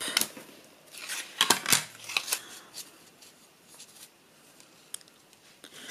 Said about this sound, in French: découper très grossièrement du papier pour mon volet